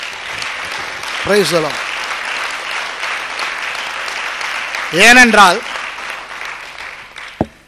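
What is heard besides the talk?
audience applauding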